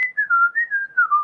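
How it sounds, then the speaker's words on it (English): A single person whistles a wavering, melodic tune, clear and close, with short breaks between phrases and no other sound around it. "I was whistling"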